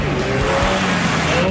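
A DeLorean engine drones as the car drives, a steady rising tone under a continuous road rumble, loud and close, with a person talking over it.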